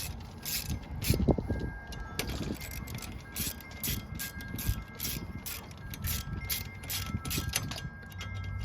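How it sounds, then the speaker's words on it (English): Wrench tightening the oil drain bolts on a 2009 Kawasaki Vulcan 900 motorcycle, a fast ratcheting click that repeats steadily and sits close over a low background rumble. "And then you just give them a good tighten."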